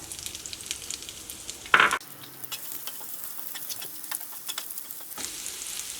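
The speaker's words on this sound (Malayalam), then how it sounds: "ഇതിലേക്ക് നമ്മൾ കട്ട് ചെയ്ത് വെച്ചേക്കണ ഇഞ്ചിയും വെളുത്തുള്ളി ഉണ്ടല്ലോ അത് ചേർക്കാം" Chopped ginger and garlic drop into a hot pan with a loud burst of sizzle, then settle into a softer steady frying crackle close by, with small clinks of a spoon.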